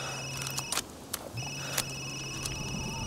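A mobile phone rings in the Resident Evil Village game, a faint electronic ringtone of sustained tones broken by a few short clicks and taps.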